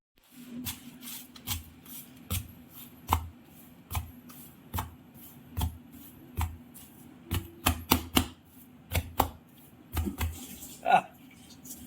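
A cooked petai paratha is beaten and crushed by hand to flake it, giving a string of sharp, close slaps and thuds in an uneven rhythm, with a low hum underneath.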